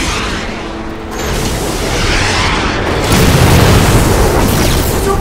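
A heavy bomb explosion hits its target in an action fan film scene, a loud, deep, rumbling roar that builds and holds for several seconds.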